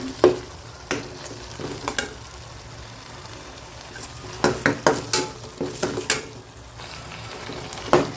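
Oil crackles and sizzles in a pan as tomatoes are stirred, with sharp scraping clinks of a utensil against the pan at irregular intervals.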